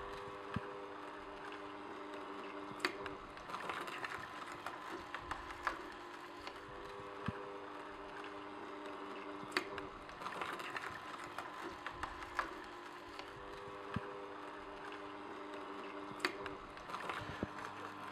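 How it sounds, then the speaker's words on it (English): An Omega Juice Cube 300S juicer grinds beet strips, a steady low mechanical whir with a crunchy, woody texture and occasional sharp ticks from the pieces, running on its own at a modest level with no talking. "One thing I noticed when they're cut into these small strips, it's basically feeding itself."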